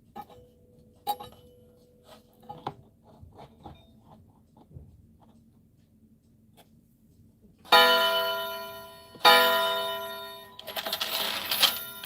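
A clock chiming on cheap, poor-sounding chime rods during a repair session: scattered quiet clicks and taps first, then three loud, ringing metallic strikes in quick succession, each one decaying slowly.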